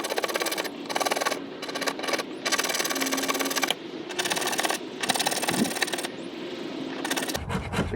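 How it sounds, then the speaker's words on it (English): Ground 90-degree spine of a Mora knife scraped over fatwood to make fire shavings, close dense rasping strokes in quick repeated bursts with short gaps. "I'm just using the back side of my spine, getting some shavings here"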